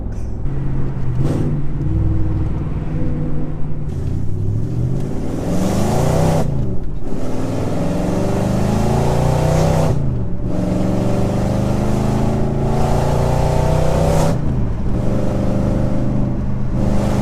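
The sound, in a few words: B7 Audi S4 engine revving under throttle with straight pipe exhaust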